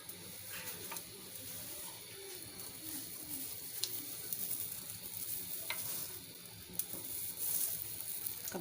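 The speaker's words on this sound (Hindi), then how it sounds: "अब मैं इसको फ्राई करूँगी।" Seekh kebabs fry in about half a cup of hot oil in a kitchen, giving a steady soft sizzle with faint bubbling and occasional light clinks, quiet and continuous throughout.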